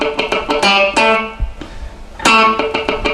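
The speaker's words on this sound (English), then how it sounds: "the specific technique that I'm going to teach you today on the guitar is how to play dead notes or muted notes" A funk riff on electric guitar with a light effect: quick choppy notes separated by percussive muted dead-note clicks, a short pause in the middle, then the pattern again, loud and close.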